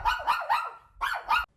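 A dog barking right after being set down, five sharp, loud, close barks in two quick bursts, with a short pause between the groups and the last bark cut off abruptly.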